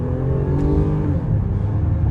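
A 2017 Lexus ES 350 in sport mode accelerating, its engine a smooth, rising hum heard from inside the cabin, steady and moderately loud without talk.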